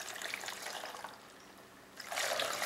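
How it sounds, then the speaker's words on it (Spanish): Water poured into a blender jar of pineapple for a pineapple horchata, making a steady close trickle that thins out briefly and then comes back as a fuller, louder stream. "Le vamos a poner aquí el agua,"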